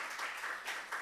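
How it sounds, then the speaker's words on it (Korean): Church congregation applauding during a Sunday worship service, a steady wash of many hands clapping at moderate distance, unbroken for about a second with no voices over it. "박수 한번 합시다"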